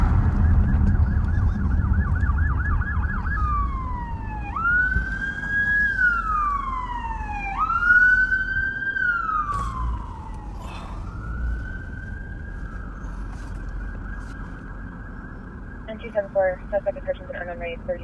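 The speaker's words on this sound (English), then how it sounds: "I hear some sirens." Police car siren wailing on patrol, rising and falling sweeps that repeat several times and then settle into a steady tone, loud and fairly near over low rumbling traffic, ending with faster yelping bursts.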